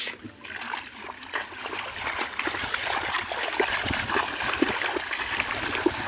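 A push net being worked through shallow water while fishing, producing continuous sloshing and splashing with trickling and gurgling, fairly close, with faint voices now and then in the background.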